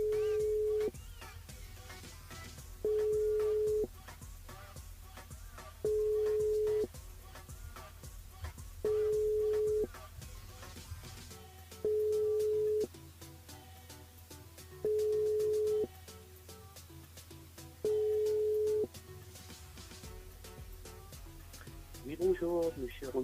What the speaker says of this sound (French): Après, on appelle Nadine